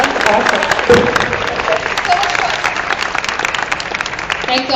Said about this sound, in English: Can we give our moderator a humongous round of applause?